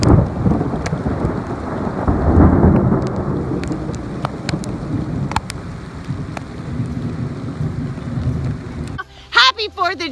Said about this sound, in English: It's going to start pouring down rain now.